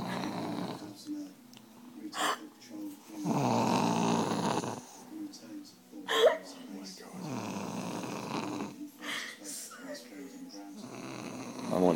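A person snores loudly and close by: a series of long, rough, rumbling inhalations with short pauses and breaths between them.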